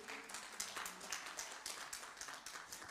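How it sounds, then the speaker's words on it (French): Faint, steady clapping from a small audience rolls on for a few seconds in a quiet room, with a dense wash of hand claps and no voices on top. "Quelqu'un applaudit."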